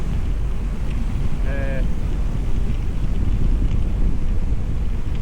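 Heavy wind buffets the microphone during an e-mountain bike ride on a Cube Stereo Hybrid, a loud, constant low roar for the whole stretch with a brief faint tone in the middle.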